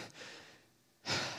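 A voice imitates someone panting, with a few quick, close breathy huffs and a sharp inhaled gasp near the end.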